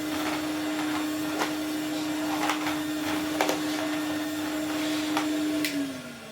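A 1983 Numatic NV250 vacuum cleaner fitted with a Vax 2000 floor head runs steadily and loudly throughout, its motor drone holding a constant pitch before beginning to wind down at the very end.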